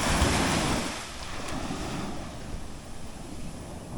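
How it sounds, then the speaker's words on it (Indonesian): Strong ocean waves break on a sandy beach in Aceh Singkil, Indonesia, as a loud, continuous rushing surf with heavy wind buffeting the microphone. "Jadi pagi ini ombaknya itu lumayan kencang."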